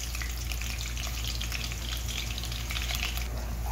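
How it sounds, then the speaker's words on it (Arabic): A whole head of garlic sizzling in hot oil and rendered lamb fat, a dense, constant close-up crackle and hiss with no pauses and no voices. "ونشوح التوم حلوة قوي بقى كده لحد بس ما ريحة التوم تطلع"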